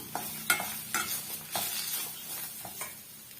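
Curry leaves crackle and sizzle in hot oil in a pan while a spoon stirs them. Soft scraping strokes recur about every half second over a close, steady frying hiss.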